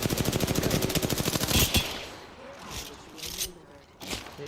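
Rapid automatic gunfire in Apex Legends, a fast burst of loud shots for about two seconds, then scattered game effects and distant bangs with faint talk underneath.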